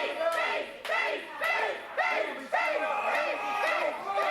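Arena crowd at a live professional wrestling event, a steady loud roar of cheering and shouting with repeated surging swells, close and continuous throughout.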